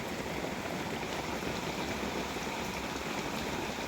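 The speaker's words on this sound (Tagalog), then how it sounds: "Inaabot na kami ng ulan." Rain falls steadily in the countryside near mountain fields at Dusok, Cabangan, making a constant, even hiss of drops with no pauses, heard up close at moderate loudness.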